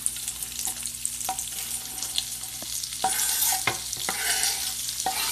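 Carrots and a medium onion sauté in a pan, giving a steady close sizzle with occasional scraping stirs and utensil clicks, growing louder toward the end.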